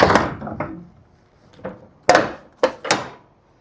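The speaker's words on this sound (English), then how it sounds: "Gonna shut these doors up." Heavy metal truck trailer doors swing shut outdoors in a few loud separate slams and thunks, with softer knocks in between and no talk.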